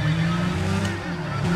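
Revving car engine from the racing game Need for Speed: ProStreet, a rally-style car driven with all assists off, holding a steady drone with shifting pitch, continuous and fairly loud throughout.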